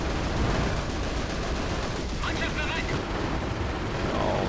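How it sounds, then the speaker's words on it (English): Gunfire in the World War II strategy game Company of Heroes suppresses enemy infantry as a dense, continuous rattle of machine-gun and rifle shots mixed with battle noise, loud throughout with a voice speaking over it. "So I'll start suppressing the infantry."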